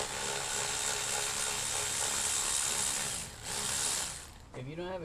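An electric drill works bolts on the engine of a 2019 Honda Accord during a fuel injector replacement for misfires. A steady, close mechanical whirring and ratcheting runs for about four seconds, dips briefly, then ends as a voice comes in.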